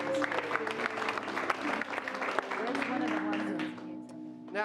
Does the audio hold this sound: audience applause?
yes